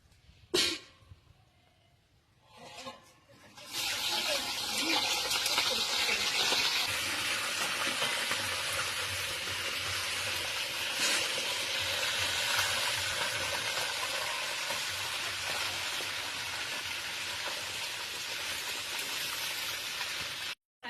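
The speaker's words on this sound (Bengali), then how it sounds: "কড়াইতে তেল দিচ্ছি, মাথাটা ভেজে নেব" Fish heads fry in hot oil in a wok with a loud, dense, continuous sizzle that starts suddenly after a few quiet knocks and then holds steady to the end.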